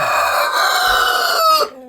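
A big hen lets out a loud, drawn-out clucking call, one continuous harmonic squawk close to the microphone that ends abruptly.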